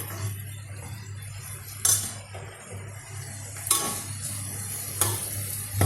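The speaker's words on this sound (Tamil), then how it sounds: "வதக்கிக்கிட்டே இருக்கணும்" Ingredients for chicken gravy sautéed in a pan, a steady low sizzle with occasional sharp spatula scrapes and clinks against the metal, close up with no talking.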